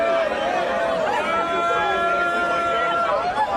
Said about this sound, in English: those are students surrounding and booing and accosting a trainee activist holding a so-called transgender flag